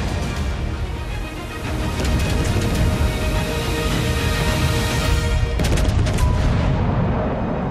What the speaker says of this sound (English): Her powerful long-range artillery with good ballistics can deal impressive damage to enemies from